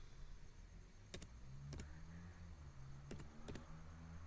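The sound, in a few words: typing on a computer keyboard in Excel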